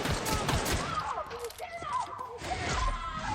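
Gunfire in The Outer Worlds video game crackles in rapid, layered bursts over a busy background, with voices talking over parts of it.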